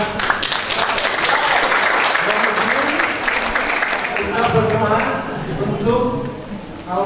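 Audience applause at a seminar held at an Indonesian pesantren, a sustained crowd clapping throughout at steady loudness, with some voices mixed in and the clapping thinning toward the end.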